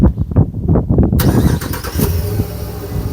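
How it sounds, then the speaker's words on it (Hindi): A Dodge Ram 1500 pickup with a 5.7L Hemi V8 starts by remote start: a short crank, then the engine catches and settles into a loud, steady idle close by, with no talking. "ये देखें गाड़ी खुद ही स्टार्ट हो गई।"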